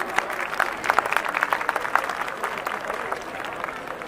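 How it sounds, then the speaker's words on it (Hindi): A large audience at a Jharkhand Day event at the India International Trade Fair claps steadily and loudly throughout, a dense continuous patter of applause with faint crowd noise. "आप सबकी तरफ से तालियां रुकनी ही नहीं चाहिए"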